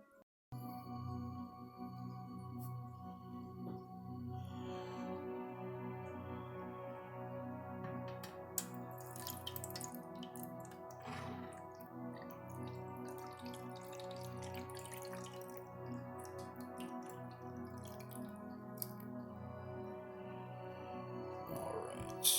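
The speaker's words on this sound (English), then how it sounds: "I'm going to get some water going here." A steady stream of water from a tap running into a container during night-time gardening in Alaska, a continuous soft pour with faint drips over a low steady hum, no talking.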